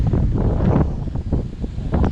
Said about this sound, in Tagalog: Lakas ng hangin, sobrang solid